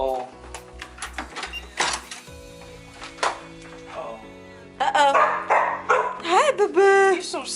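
A dog barks and yips in short intermittent bursts with some whimpering, close by, mixed with a person talking.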